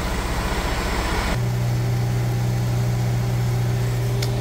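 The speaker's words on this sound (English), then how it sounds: "All right, so that's fueling." A tour bus at a fuel pump: a diesel rumble idles, then a steady electric pump hum switches on abruptly and runs continuously, close and fairly loud.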